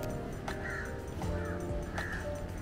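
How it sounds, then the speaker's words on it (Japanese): Crows caw repeatedly outdoors at a Sri Lankan Ayurveda resort in Negombo, a few harsh calls spaced apart over steady background ambience. "鳥の鳴き声がねすごい聞こえる。"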